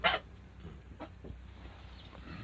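Chickens in a barn, a sharp squawk at the start, then a few soft scattered clucks over a quiet room tone.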